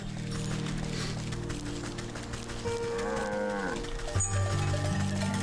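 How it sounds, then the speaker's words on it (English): A cow moos in the video game Wytchwood on a cow farm, a long, loud drawn-out low call with a bending pitch, heard over steady game music. "The cow, the moo-moo."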